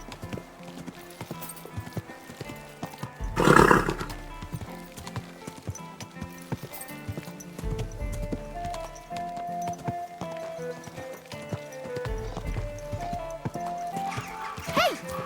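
Horse hooves clip-clop steadily with a sharp whinny near the start in the game Kingdom Come: Deliverance II, set against quiet ambient background and faint music.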